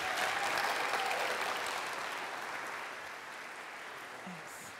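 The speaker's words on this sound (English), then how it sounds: "Can we please give them another huge round of applause?" A demo day audience gives a large, sustained round of applause for startup pitches, dense and even at first, then gradually tapering and thinning out.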